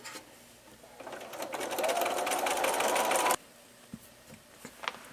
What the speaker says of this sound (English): and then sew a 1/4 inch seam.